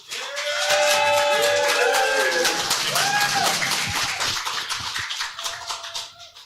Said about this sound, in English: That's a nice sounding crowd.